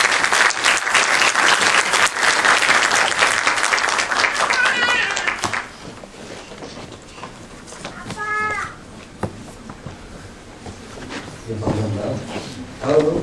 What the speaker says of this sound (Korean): 대리께서는 큰 박수 부탁드립니다.